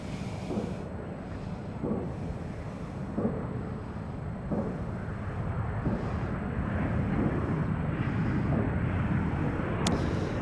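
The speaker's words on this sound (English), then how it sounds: "767 is going to start taxiing." A Boeing 767 begins to taxi at San Francisco airport, heard as a steady, distant jet engine rumble and whine that builds slightly over time, with no voices.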